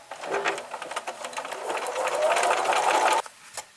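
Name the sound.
sewing machine stitching mitered quilt strips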